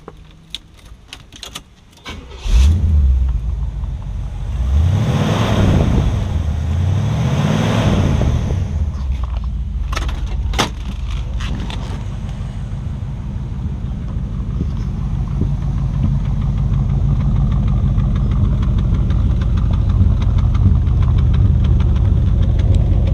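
A 1975 Pontiac Grandville Brougham convertible cranks and fires up, its big engine flaring through a couple of loud revs before settling into a steady, rumbling idle heard up close.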